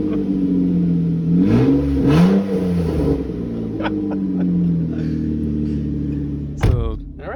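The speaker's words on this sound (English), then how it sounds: "car sounds like without a catalytic converter in it" Car engine without a catalytic converter revving inside a garage, a steady rumbling idle swelling in two throttle blips early on, then settling, with a sharp clatter near the end.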